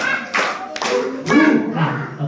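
Children clapping hands in rhythm during a clapping chant at a Maulid Nabi gathering, a few loud close bursts of claps in a short pattern with a voice leading along.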